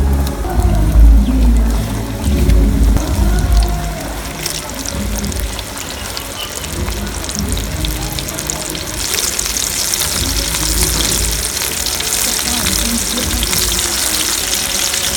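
Chicken drumsticks fry in hot oil, KFC-style crispy leg pieces, with a steady loud sizzle and crackle that runs throughout, heavier bubbling near the start and then settling into an even hiss.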